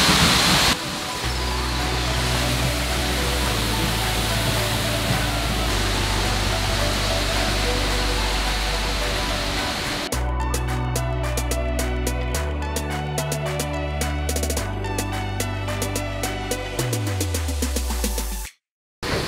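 Roaring rush of a large Icelandic waterfall heard from right behind the falling water, a loud, dense, steady wash of spray that fills the whole stretch with only small shifts in tone.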